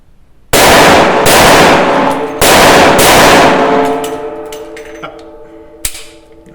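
Coonan .357 Magnum automatic pistol fired outdoors in two quick double taps, each a loud, sharp pair of blasts with a long ringing decay, followed by fainter clicks and handling noise.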